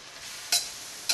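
Broth is stirred into tamale filling in a pot, giving a quiet liquid wash with two short, bright scraping clatters of the spoon against the pot.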